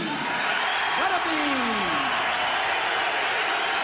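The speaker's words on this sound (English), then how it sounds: "Ladies and gentlemen, big round of applause for BUTTERBEAN." A boxing arena crowd roars and applauds a heavyweight fighter's ring introduction, a loud continuous wash of noise under the announcer's voice.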